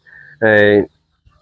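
A desi chicken raised in an open, natural yard gives one short, loud, harsh call up close, preceded by a faint thin tone and followed by near silence.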